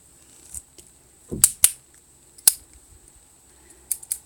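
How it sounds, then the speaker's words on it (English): A few sharp, crisp snips close by, spaced irregularly with quiet gaps between them, and no talking. "Now we need our scissors."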